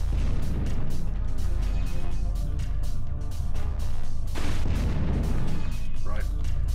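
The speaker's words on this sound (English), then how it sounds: "Oh no, he threw a grenade." Grenade blast in the shooter game Hellforces, heard as a sharp burst around the four-and-a-half second mark amid steady rattling gunfire and rumbling combat noise, with someone talking over it.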